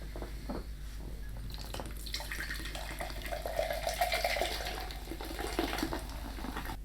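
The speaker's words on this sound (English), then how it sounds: "Thoroughly rinse and dry your can to avoid sticky fingers while building your stove." Tap water runs and splashes while an empty soda can is rinsed under the faucet. The rush is steady and close, and the splashing varies as the can turns in the stream. No one speaks.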